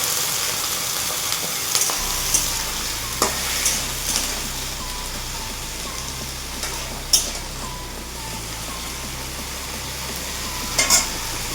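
Pumpkin pieces with Bengali five-spice and prawns fry in a pan with a continuous close sizzle, broken by a few sharp clicks and scrapes of stirring and no talking.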